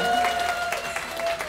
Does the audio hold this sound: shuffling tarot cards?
no